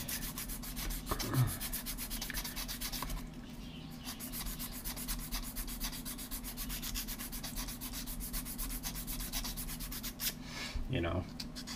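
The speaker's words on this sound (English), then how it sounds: "it's easier just to sand right to your template now." Wood being sanded flush to a template, a steady close scraping rub running almost continuously with a brief pause near the middle, no voices.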